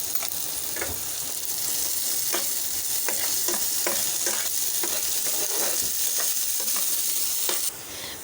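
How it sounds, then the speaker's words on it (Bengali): Chopped onions fry in a pan with a constant, close hiss while a spatula scrapes through them in repeated strokes, with no voices over the cooking. "পেঁয়াজটা আমি একটু ভালো করে ভেজে নেব।"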